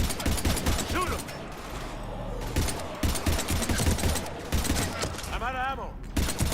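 Video game gunfire from Mass Effect 3 crackles almost without a break in a dense battle, loud and near, as voices shout over the shooting.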